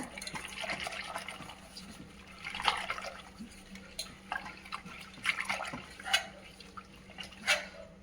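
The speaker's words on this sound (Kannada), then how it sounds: "ಒಂದು ಸ್ವಲ್ಪ ರಾಗಿ ಹಿಟ್ಟನ್ನ ಈ ನೀರಿಗೆ ಹಾಕಬೇಕು. ಇದು ಈ ರೀತಿ ಚೆನ್ನಾಗಿ ಕೈಯಾಗ ಕಲಿಸ್ಬೇಕು." A hand mixes ragi flour into a cup of water, making intermittent wet sloshes and splashes with quieter liquid swirling between them.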